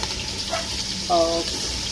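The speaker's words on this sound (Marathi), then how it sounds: "हिरवी मिरची टाकत आहे." Green chilies hit hot oil while jeera aloo is cooked in a home kitchen, giving a steady close hiss and sizzle with a brief voice over it.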